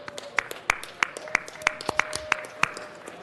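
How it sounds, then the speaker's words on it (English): Scattered hand claps in a city council meeting chamber, applauding visiting elementary students; a modest group clapping in a steady, fairly quick rhythm, with sharp individual claps standing out and a faint background hum. "Give them a round of applause."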